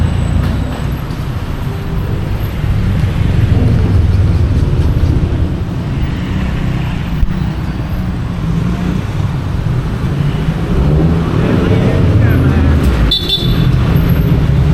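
Street traffic rumbles steadily with engines passing, and a car horn sounds briefly near the end, while people talk over the road noise.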